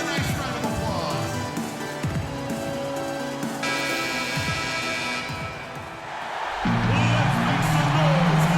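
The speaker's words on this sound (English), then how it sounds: "Give them a nice round of applause." A large basketball arena crowd roars and cheers, with a swell of applause and noise building toward the end.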